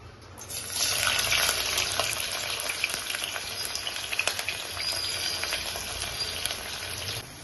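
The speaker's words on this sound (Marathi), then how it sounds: "कांदा जो चिरलेला आहे तो तळून घेऊया" Chopped onions fry in hot oil in a pan for an anda biryani, giving a steady, close hiss of sizzling with faint crackles throughout and no talking.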